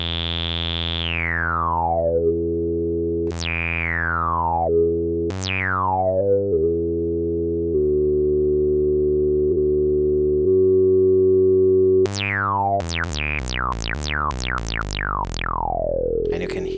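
A synthesizer tone sweeps downward through a resonant liquid filter on a Frap Tools Cunsa again and again, gurgling and growling, ending in a flurry of quick liquid zaps.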